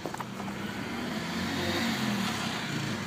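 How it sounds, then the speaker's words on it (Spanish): A 1996 Neon's engine turns over and settles into a steady idle after a universal ignition switch adaptation, a continuous mid-level motor hum holding evenly with no talk over it. "ya arrancó el coche."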